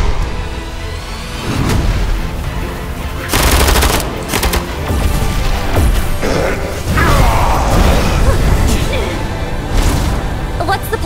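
Bursts of rapid automatic gunfire, heavy booms and crashing impacts fill an animated Genshin Impact action fight, loud and dense, with voices shouting in between.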